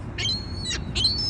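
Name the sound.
birds calling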